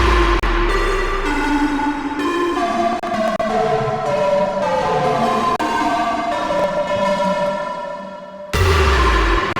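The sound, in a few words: Serum synth remake of a song with reverb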